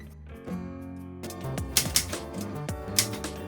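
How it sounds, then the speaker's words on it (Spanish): Keys clack in quick, uneven bursts on an antique typewriter, close and crisp, over a low musical backdrop. "ese maravilloso sonido del golpeteo de las teclas, su campanilla de final de línea y el retroceso del carro"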